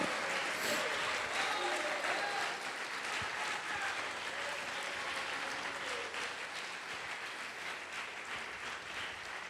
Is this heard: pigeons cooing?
no